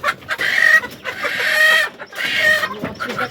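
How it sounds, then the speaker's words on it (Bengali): Chickens cluck in short, repeated bursts at close range, several calls overlapping in a rural household setting with faint background noise. "এই এই এই এই ছোট মুরগিটা দেখি"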